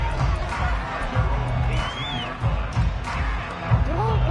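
Stadium crowd noise from a Madden football video game, with Rams fans cheering as a continuous broad roar. Scattered shouts and whoops rise above the roar, with a steady low rumble underneath throughout.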